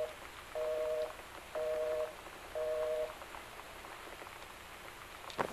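A telephone handset is picked up in the video game Gone Home. Three evenly spaced electronic tone pulses follow over steady rain, ending in a sharp click.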